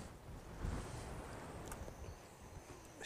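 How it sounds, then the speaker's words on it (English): Outdoor wind buffets the microphone at a coastal birdwatching spot, a steady low rumble with a brief stronger gust early on, and no speech over it. "It's getting windy."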